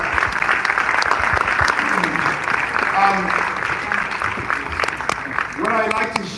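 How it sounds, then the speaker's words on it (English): Church audience applauds with steady clapping, moderately loud and close, while voices talk and cheer over it throughout. "that deserves a round of applause"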